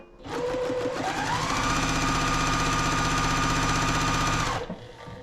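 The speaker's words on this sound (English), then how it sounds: "So I'm gonna take this piece and I'm gonna sew it together." A sewing machine runs a quarter-inch seam joining quilt pieces, spinning up quickly to a steady, loud, whirring hum for about four seconds before stopping abruptly.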